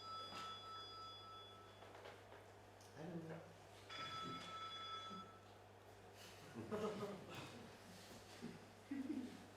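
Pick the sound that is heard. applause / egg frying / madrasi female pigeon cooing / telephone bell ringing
telephone bell ringing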